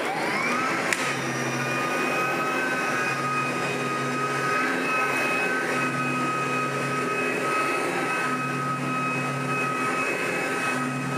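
A Sebo BP60 cordless battery vacuum cleaner runs steadily on a red carpet inside a church, a constant close whirring motor drone with a high whine that holds level throughout.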